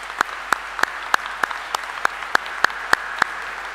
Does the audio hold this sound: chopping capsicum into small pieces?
no